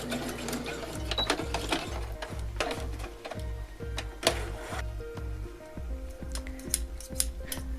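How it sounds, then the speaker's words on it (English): A sewing machine stitches doll socks, running in quick rhythmic bursts of needle thumps with short pauses between runs, close and fairly quiet, with small clicks and taps between. "Sewing down to the toe and then doing a back stitch again."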